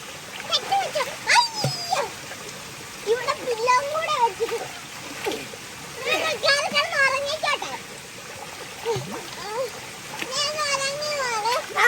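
Water splashes in a home swimming pool in short, irregular bursts while children talk and shout excitedly close by and a dog barks and whimpers now and then.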